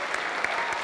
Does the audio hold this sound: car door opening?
no